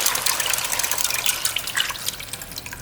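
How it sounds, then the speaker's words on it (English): Sauce stirred into chicken cooked in its own juices gives a steady wet, splashy sizzle and slosh, close and continuous, with no talking. "And give it a quick stir."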